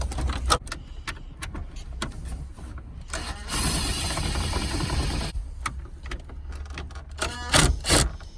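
Ratchet with a 10mm socket removing screws on a Chevy Impala steering column, quick clicking ratchet strokes and small metallic rattles with a sustained whirring stretch in the middle, close and fairly quiet.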